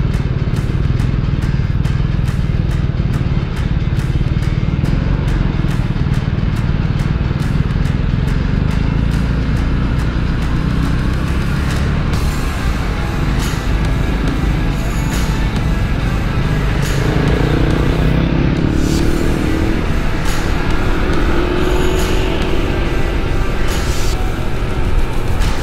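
A Honda ADV 160 scooter engine runs steadily and loud throughout on a hot summer afternoon in Bacoor, with a continuous low drone and traffic noise around it, no talking.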